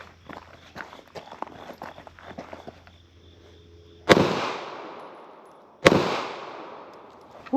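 Shuffling footsteps come first, then two loud, sharp handgun shots fired at a target around a concrete corner on a shooting range, each followed by a booming echo that rings out and fades.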